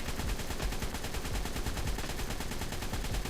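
Modded assault rifle in ARK: Survival Evolved firing continuously, a dense unbroken stream of rapid gunshots at steady loudness, with no pauses and no talk.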